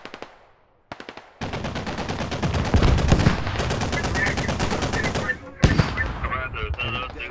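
A .50 caliber machine gun fires long, rapid bursts in an urban combat video game battle in Narva. The loud, rattling fire is close, with a short break before more shots follow.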